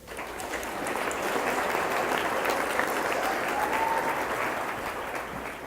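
An audience at an evening school board event applauds to welcome a student speaker, a dense, sustained clapping that swells quickly, holds steady for several seconds and then begins to taper.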